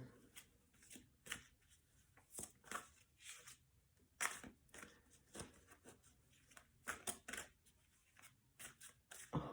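Tarot cards being shuffled on a table, a run of crisp riffling and slapping bursts in uneven rhythm, close and fairly loud, with no one talking.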